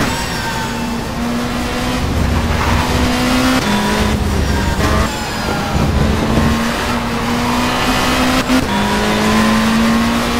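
A touring race car engine in the World Touring Car Champ 07 video game at the Curitiba circuit, loud and continuous, revving up through gears with sharp shift drops and brief tire squeal, no talk.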